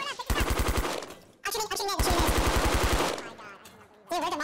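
Rapid automatic gunfire in Fortnite, two loud bursts of quick rhythmic shots close by, followed by further game sounds and a brief voice at the end.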